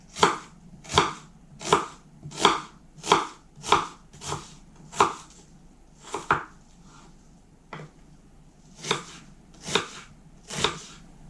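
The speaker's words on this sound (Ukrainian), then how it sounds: "Цибулю нарізаю невеличким кубиком, як для засмажки." A knife chops an onion into small dice on a cutting board, about a dozen crisp strikes in an even rhythm with a short pause near the end.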